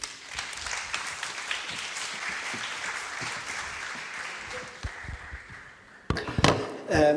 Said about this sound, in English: So please, an applause to Ernesto Belisario.